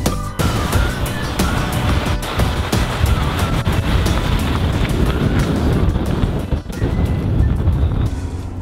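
A Jeep Renegade Trailhawk climbs a steep snowy hill, its engine a low, continuous rumble blended with wind buffeting the microphone, with a brief dip near the end.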